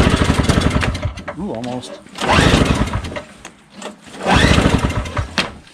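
A Craftsman 21-inch single-stage snowblower with a Tecumseh 5HP engine being pull-started after carburetor repair: three loud bursts of cranking and sputtering that almost catch, with a person speaking briefly between pulls.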